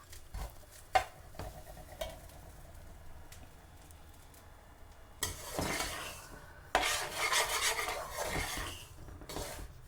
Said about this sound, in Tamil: இப்போ இதை நான் இன்னொரு 2 நிமிஷம் வறுத்துட்டு பார்ப்போம் ரவ்வை வறுக்கிற போது